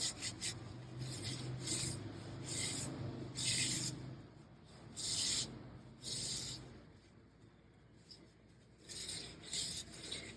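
Rhythmic rasping scrubs across the inside of a ceramic lamp shade, smoothing off burrs after the clay was wetted, repeated strokes in bursts with a low steady hum beneath and quiet pauses between.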